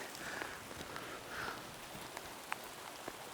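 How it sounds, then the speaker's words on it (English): Steady pouring rain patters all around on an elk hunt, with scattered louder drops tapping close by against a soft, constant hiss. "we've got pouring rain"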